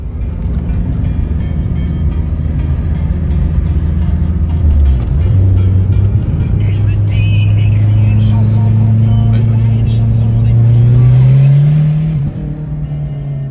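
A car, a GT, drives along with a steady engine drone that dips, then climbs in pitch as it accelerates through the gears, loud and close, with some talk in the cabin.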